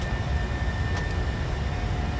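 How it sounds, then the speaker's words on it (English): PMDG 737-600 jet engines spooling up inside a flight simulator, a steady, continuous turbine roar with low rumble holding level throughout, no voices over it. "Those engines kicked in a little bit there."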